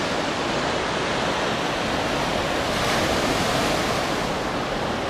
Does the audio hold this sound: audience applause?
no